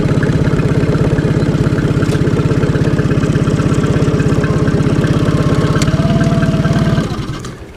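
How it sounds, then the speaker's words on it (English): A boat motor idles loudly with a steady, rapid putter, then the engine note shifts and fades near the end. "I kind of hate to leave the motor running when I'm filming because of the noise."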